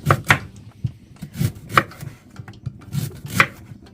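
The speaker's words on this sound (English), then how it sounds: "slice my ginger" Knife slicing ginger on a cutting board, a close, steady series of crisp chops and soft thuds in an even rhythm.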